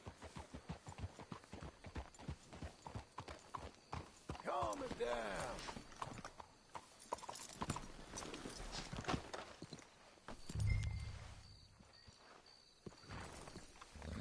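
Horses' hooves clip-clop at a walking pace in Red Dead Redemption 2, soft irregular steps running under game characters' dialogue, with a brief louder rumble near the end.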